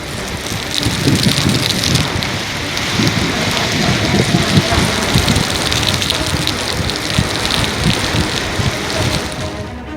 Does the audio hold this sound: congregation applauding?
no